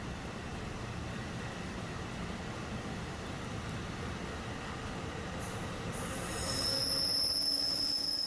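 A steady rumble of a New Jersey commuter train rolling along the rails, with a thin high wheel squeal rising near the end; no voices.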